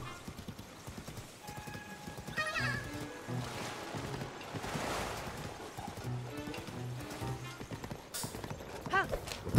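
Horse hooves clip-clop steadily while riding in Zelda: Tears of the Kingdom, a rhythmic trot with occasional snorts set over game music and ambience.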